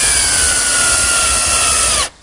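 A power drill drives a 2-inch screw with a washer into the slot of a wooden Queen Anne table top, a loud steady whine with rising pitch that stops abruptly after about two seconds.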